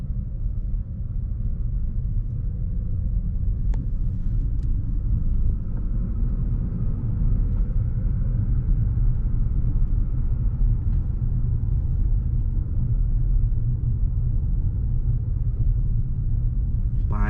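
A 1999 Mercedes-Benz SL 600 AMG with a V12 engine drives along, giving a steady, smooth low rumble heard from inside the car, unchanging for the whole stretch, with a couple of faint clicks.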